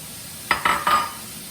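Broccoli tossed into a hot wok already cooking shrimp and vegetables for fried rice gives a few quick clattering, sizzling bursts over about half a second, then settles into a low steady hiss.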